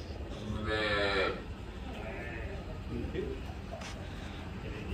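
A cow at a village cowshed in Gujarat gives a low mooing call early on, heard over background chatter and faint ambient farm noise.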